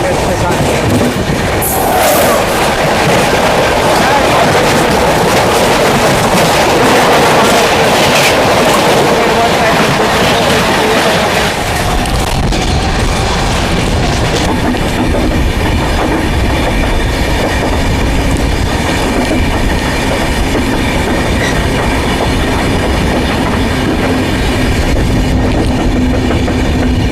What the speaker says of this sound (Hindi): हमारी क्रॉसिंग हो रही है टाटा नगर से चलकर अमृतसर की ओर जाने वाली टाटा नगर अमृतसर जयपुर एक्सप्रेस के साथ।